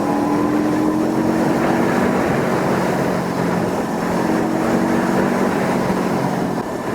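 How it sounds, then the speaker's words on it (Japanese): A Honda CL500 parallel-twin with a 180-degree crank, held in fourth gear at raised revs, hums as a steady, loud drone mixed with wind rush during a road test ride. The pitch holds nearly constant with slight rises. "ちょっとギアを落としてもう少しエンジンを回してみます。"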